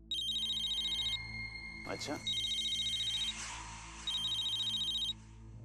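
A telephone in a drama scene rings in repeated electronic trilling bursts, three rings separated by short gaps, while a voice briefly speaks between them.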